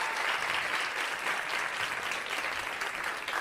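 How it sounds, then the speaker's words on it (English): An audience at a stand-up comedy night in New York City applauds, a dense, steady wash of clapping that fills the room without a break. "A round of applause"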